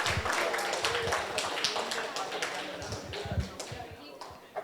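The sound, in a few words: applause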